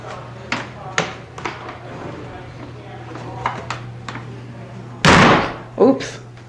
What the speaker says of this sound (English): Close the door, okay.